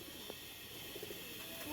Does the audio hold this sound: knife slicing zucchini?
no